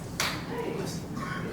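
A class at a financial education training session gives Patrick a group 'thunder' clap: a few sharp, unison clap bursts spaced apart, with voices and room murmur between them.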